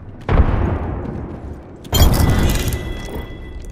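Two heavy frag grenade blasts in Apex Legends, each a loud booming explosion with a long rumbling decay, the second landing about a second and a half after the first.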